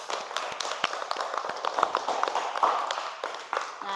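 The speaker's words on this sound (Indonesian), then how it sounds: "beri tepuk tangan untuk kedua kelompok" A class claps for two student groups, a loose scattering of hand claps at moderate distance, uneven and fairly light rather than a full ovation.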